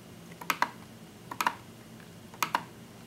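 Typing on a computer keyboard: three quick pairs of crisp key clicks spaced about a second apart, close and clear over a faint hum, no talk.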